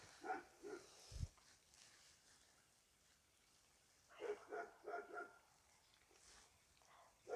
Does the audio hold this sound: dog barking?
yes